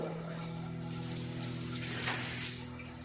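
Water runs steadily from a bathroom diverter tap, a continuous rushing stream under a faint electrical hum, close and fairly even in level throughout.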